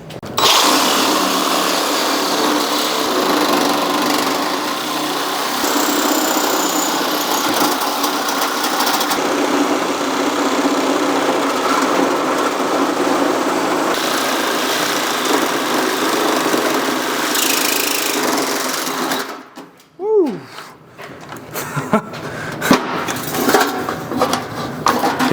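Power tool cutting off an old muffler under a 1969 Ford LTD, a loud continuous high-pitched whine and grind lasting about twenty seconds, then stopping abruptly, followed by scattered clanks and handling noise.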